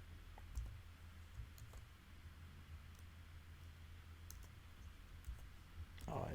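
Keys on a computer keyboard tap out JavaScript code in quiet, irregular clicks scattered through a soft hiss, with low murmuring in the background and a louder burst near the end.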